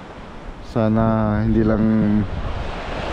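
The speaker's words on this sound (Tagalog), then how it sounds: "Kung medyo mahangin na yung paligid" Steady wind and surf roar at a beach in Buruanga, Aklan, on Panay Island, running throughout as a broad wash while someone talks up close over it.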